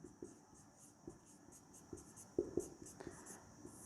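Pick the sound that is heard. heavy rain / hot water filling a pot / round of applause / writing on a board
writing on a board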